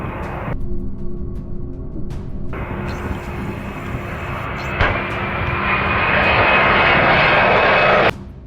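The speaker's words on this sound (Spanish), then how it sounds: "Este Airbus A300 de DHL sufrió un impacto con un ave al despegar desde Ámsterdam." A DHL Airbus A300 jet takes off from Amsterdam, its engines roaring steadily and building louder toward the end, a loaded cargo plane at full takeoff power heard continuously from nearby.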